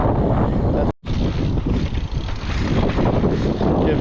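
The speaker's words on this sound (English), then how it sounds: "I'm trying to keep the microphone out of the wind." Loud wind from the south buffets a microphone on a motorcycle in a continuous roaring rush, broken by a brief cutout near the start.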